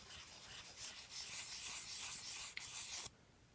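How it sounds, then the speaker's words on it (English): Soft, steady rubbing strokes of 2000 grit sandpaper wet sanding a shifter knob, close and quiet, continuing for a few seconds before stopping abruptly. "Once again, we're using 2000 grit sandpaper."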